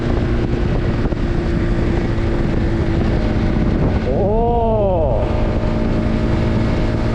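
A motorcycle ridden on the road, with its engine droning steadily close to the microphone amid wind buffeting, and one rising-then-falling rev swell partway through.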